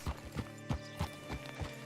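Horse hooves clop in a steady walking rhythm, close and fairly soft, in the video game Red Dead Redemption 2, with a faint whinny mixed in and no talk.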